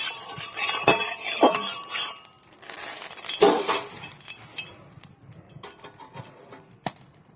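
Mushroom chilli being stirred in a hot pan of oil, with metallic clinks and scrapes of the utensil against the pan, loud at first and then sparser and quieter toward the end.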